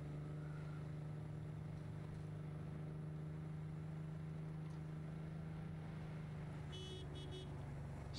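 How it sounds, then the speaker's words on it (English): Car horns honk in the Cyberpunk 2077 video game, a few short toots near the end over a steady loud engine drone and road noise. No one talks. "Stop honking."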